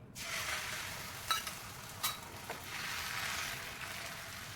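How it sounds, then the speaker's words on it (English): Egg sizzles in a hot pan for an egg roll, a soft, steady frying hiss with a couple of faint clinks partway through, fairly quiet and close. "So my egg is cooking."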